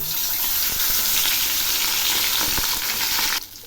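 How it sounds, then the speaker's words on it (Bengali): Katla fish head drops into hot mustard oil in a pan and sizzles with a loud, dense, even crackle, close up, before the sound cuts off sharply near the end. "তেল গরম হয়েছে, এখন আমি মাছটা ছেড়ে দিচ্ছি।"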